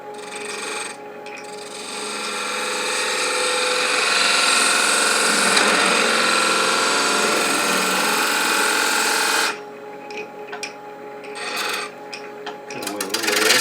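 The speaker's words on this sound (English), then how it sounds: "Now I'm going to come in there with a spindle gouge." A spindle gouge shaves spinning wood on a lathe while shaping a one-piece baby rattle, producing a loud, continuous rasping hiss that swells and holds, then breaks into choppier, lighter cuts near the end.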